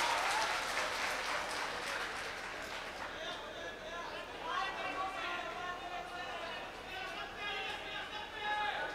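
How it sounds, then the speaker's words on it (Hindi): Audience at a mushaira poetry event breaking into applause, loud dense clapping at the start that thins into scattered claps with crowd chatter and murmuring voices mixed in. "एक बार ताली बजाइए"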